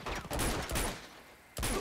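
Rapid bursts of gunfire from the video game Uncharted 2: Among Thieves, loud clustered shots in two volleys separated by a short lull.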